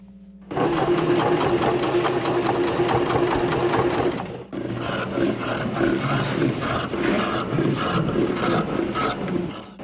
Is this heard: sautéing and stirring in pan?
no